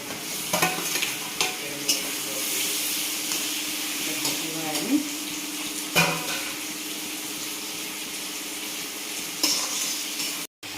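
Chicken fries in oil with softened onion and spices, a steady sizzle broken by repeated stirring scrapes and clanks of a spoon against the pot, with a faint voice in the background.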